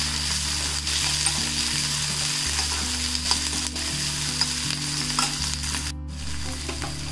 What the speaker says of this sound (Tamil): வெங்காயம், அப்புறம் பச்சை மிளகாய். இதெல்லாம் சேர்த்து நல்லா வதக்கிக்கோங்க.